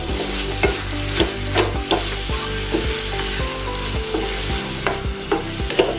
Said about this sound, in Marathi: आता इथे मिक्स करून घेऊया।